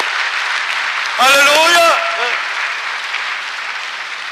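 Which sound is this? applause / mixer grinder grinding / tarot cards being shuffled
applause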